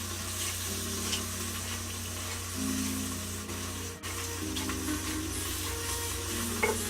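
Sausage and peppers frying in a pan give a steady, close, continuous sizzle with no talk over it, while faint clinks of a utensil stirring come and go.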